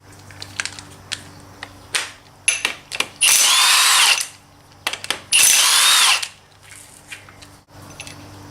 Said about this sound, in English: we're going to take 2 of these bolts out that bolt the actual pulley to the harmonic balancer on